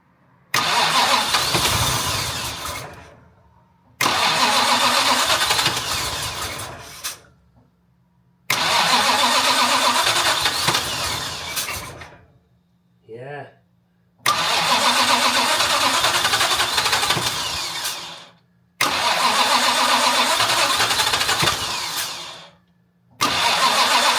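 A Jaguar MKII engine running on its starter carburettor cranks and catches in five separate loud bursts, each running briefly and then dying back to near silence before the next attempt.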